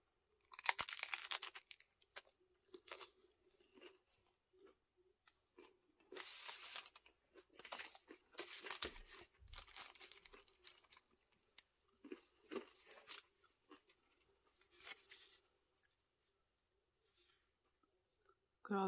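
Loud, close crunching bites of a Taco Bell Cantina Crispy Melt Taco, repeated in bursts with pauses between, mixed with wet chewing sounds.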